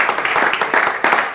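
An audience applauding at a religious lecture, a steady dense patter of many hands clapping with slight swells, fairly close and continuous, with no talk over it.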